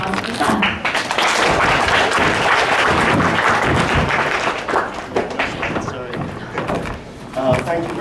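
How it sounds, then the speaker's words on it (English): Applause from a gathered crowd at an anti-militarism event, dense clapping that swells and then thins out, with some voices mixed in near the end. "I'd like everyone to give a round of applause for Seth"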